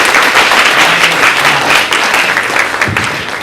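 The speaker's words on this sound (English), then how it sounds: "How about another round of applause for everybody who's spoken?" Audience applause fills a talk at the BAYS 2014 event, a dense, steady wash of many hands clapping at close range, continuous and loud throughout, easing slightly near the end.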